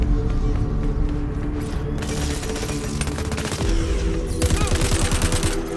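Gunfire in the video game Crackdown 3, rapid automatic bursts and clattering shots coming in repeated volleys close by, with a voice now and then underneath.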